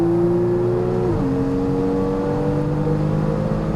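Porsche Cayman S engine pulling hard on a race track, a loud steady drone that holds a throttle-balanced pitch with a brief gear-change dip, close and continuous without talk.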